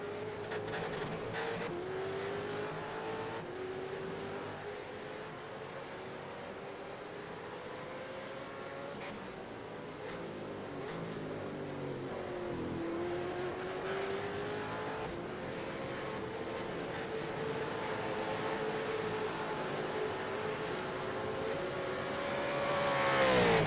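Supercars lapping Sebring International Raceway in the iRacing sim, engines droning steadily and shifting pitch through gears and corners across the whole stretch, rising louder at the end.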